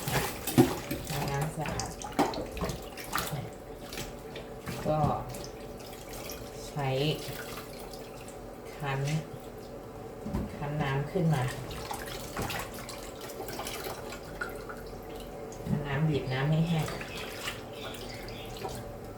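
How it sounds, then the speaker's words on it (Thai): Clean tap water runs and splashes as pork belly is rinsed in a kitchen, an intermittent, moderately close trickle and drip beneath someone talking. "ล้างน้ำสะอาดหนึ่งน้ำ"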